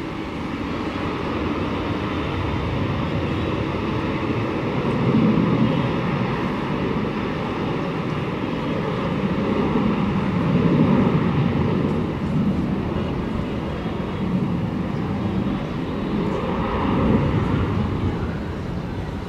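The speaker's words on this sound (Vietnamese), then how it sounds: "Mời mọi người chiêm ngưỡng pha cất cánh của chiếc máy bay đặc biệt này nhá" A Gulfstream G650E business jet taking off from Tan Son Nhat airport, a sustained broad engine roar at a distance that swells and eases in waves over the whole stretch.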